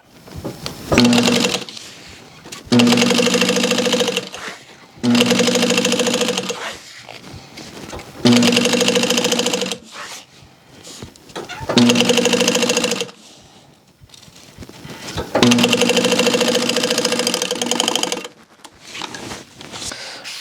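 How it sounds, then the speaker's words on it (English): A sewing machine stitches down the long edge of fabric being made into webbing. It runs in about six loud, steady bursts of two to three seconds, separated by short pauses, close up and with no voices. "And we're just going to sew down the long axis."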